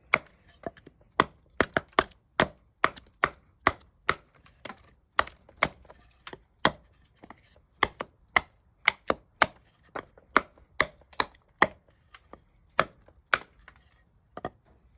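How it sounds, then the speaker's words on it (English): A With Armour Mercenary TN knife chops into wood in sharp, evenly spaced strikes, dozens of crisp knocks over a quiet background with no talking. "since the knife has some heft to it, let's try some light chopping here"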